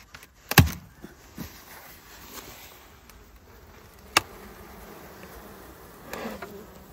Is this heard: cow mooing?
no